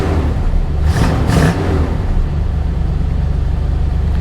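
A 1993 Chevy Caprice engine runs at idle, a steady low rumble close to the microphone, with a brief whooshing surge near the start before settling back into an even drone.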